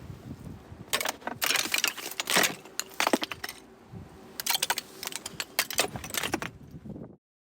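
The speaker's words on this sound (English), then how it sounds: "that was the sound of my dad knocking icicles off the roof" Icicles knocked off a roof by hand: a run of sharp, bright cracks and tinkling shatters in two bursts, fairly close, with clattering ice fragments between hits and no talking.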